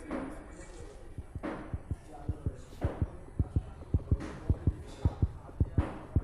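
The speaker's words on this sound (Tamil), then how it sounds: "ஹார்ட் பீட் சவுண்டு வருது" A heartbeat effect in the Granny horror video game thumps in a steady, loud double-beat rhythm, getting faster and stronger over a low hum.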